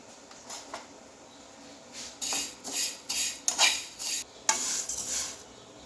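Vermicelli roasting in a pan for a jaggery sweet, with repeated scraping and stirring strokes of a utensil against the metal, rhythmic and close.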